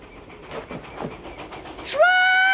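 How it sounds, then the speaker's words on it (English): A distant train rumbles with clattering noise, then a loud, sustained steam-style whistle blares near the end, steady and piercing. "Train!"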